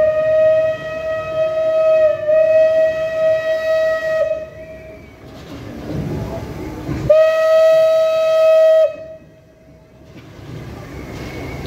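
A coal-fired steam locomotive at a Slovak railway celebration sounds its whistle in two long, loud, steady blasts separated by a short gap, with engine hiss and faint voices between them.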